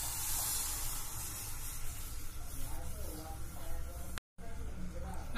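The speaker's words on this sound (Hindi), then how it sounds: "सबसे पहले इसमें दूध डालेंगे" Milk poured into a hot pan on a gas stove for lauki halwa, a broad steady hissing sizzle that holds loud for several seconds, briefly cuts out, then resumes, with faint talk under it.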